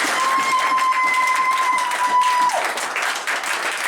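A church congregation in Lyon applauds and acclaims the Lord during a service, with dense, steady clapping and crowd noise running the whole way through and a held musical tone sounding partway.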